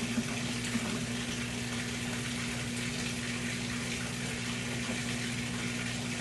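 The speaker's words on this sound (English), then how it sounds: "We get the spin drain anyways." A washing machine drains its water before the spin cycle, producing a steady, faint rush of flowing water with a constant pump hum underneath, unbroken throughout.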